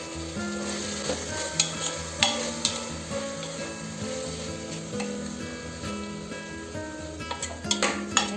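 Tomato, beans and fenugreek leaves sauté in a pan with a steady close sizzle, broken by periodic scrapes and stirring knocks of a utensil, over faint background music.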